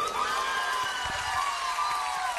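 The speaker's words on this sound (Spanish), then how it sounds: "Vamos a dar un aplauso a la banda." A live concert audience applauding and cheering for the band, a dense, steady wash of crowd noise throughout.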